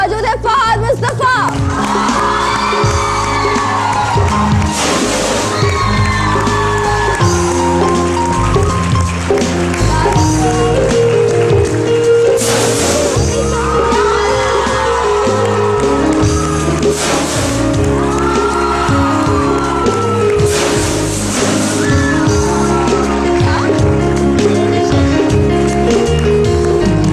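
A studio audience on a Pakistani morning show cheers and whoops loudly for a guest's arrival, a dense sustained roar with music and voices mixed in throughout.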